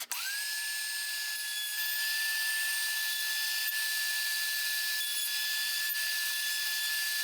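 Router fitted with a round-over bit cutting a shallow profile along the edge of a thin 1/4 inch wooden workpiece, a loud steady high whine that runs nearly unbroken from start to end with no voices.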